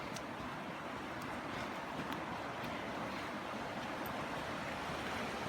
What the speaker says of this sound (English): I believe I hear creek.